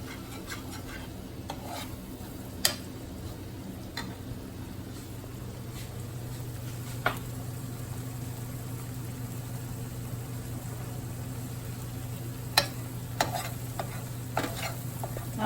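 Flour roux stirred and cooked in a small pot for étouffée at home, a steady low sizzle with rhythmic spoon scraping and a few sharp clinks against the pot, fairly quiet and close.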